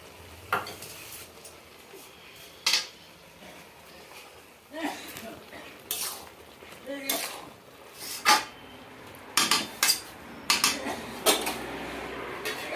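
A shrimp curry with garden greens and Malabar spinach stems being stirred in a pan: a soft background sizzle broken by irregular scrapes and knocks of a spatula against the pan, close by.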